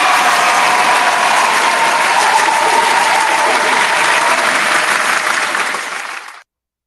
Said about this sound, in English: Round of applause for determination.